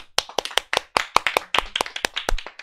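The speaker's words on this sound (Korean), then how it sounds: "야, 박수!" A small group claps to welcome a newcomer during a Korean stock-investing lesson stream, with quick, slightly uneven hand claps close to the mic and no speech.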